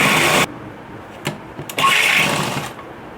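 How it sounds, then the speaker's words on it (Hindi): A sewing machine stitches sofa cover fabric close by. It runs in a loud burst, stops, gives a couple of brief clicks, then whirs again in a long run that fades out. "अब हम इसको सिल देंगे।"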